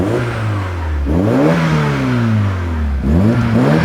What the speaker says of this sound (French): Allez, mets quelques coups de gaz